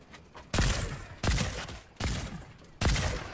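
Gunfire in Fortnite during a duos match: four loud bursts of shots, each about half a second, coming in an even rhythm against a faint background with no talking.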